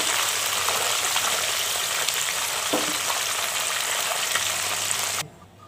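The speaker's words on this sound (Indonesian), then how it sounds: "Oke, kita goreng dahulu hingga benar-benar kering." Gourami fish deep-frying in hot oil, a loud, steady sizzle and crackle running continuously for about five seconds before cutting off abruptly near the end.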